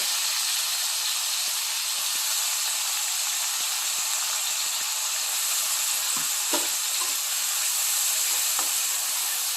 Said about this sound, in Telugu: నూనె వేడైంది కదా, పెద్దగా తరిగించిన ఉల్లిపాయలు వేస్తున్నా.